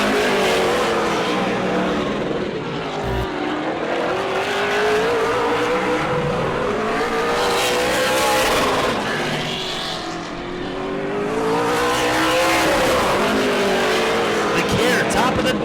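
Super late model race cars run qualifying laps at Auburndale, engines roaring steadily with rising and falling pitch as cars sweep past, loud and continuous, with a track announcer talking over the noise.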